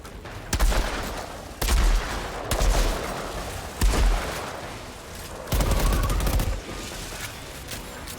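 Bursts of rapid gunfire from a double gun in the video game Outriders, several loud clusters of shots with short gaps between them and a rumbling tail after each volley.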